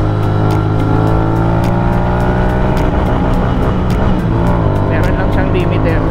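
A Royal Enfield Continental GT 650 with an otherwise stock engine and an aftermarket muffler, heard while riding: a loud, continuous engine drone with rising and falling tones, steady and close throughout.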